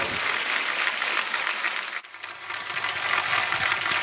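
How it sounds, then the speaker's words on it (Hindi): Studio audience applause on a television comedy show, loud dense clapping that briefly dips then swells again, filling the whole stretch without talk. "बादशाह पाजी के लिए जोरदार तालियां"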